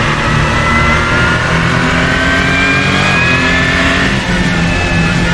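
Ferrari 499P LMH Le Mans prototype in Assetto Corsa holding a steady, loud engine note with a rising whine, continuous throughout with no pauses.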